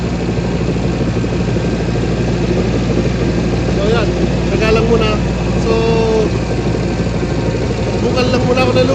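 Tractor engine rumbling steadily as it is driven across newly acquired farm property, a constant loud low drone through the whole stretch while someone talks over it.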